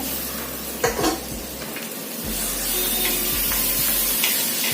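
Finely chopped tomato goes into a pan of sizzling fried onions for egg bhurji, a constant frying hiss that swells a little after a clattering drop, with light utensil clinks and scrapes.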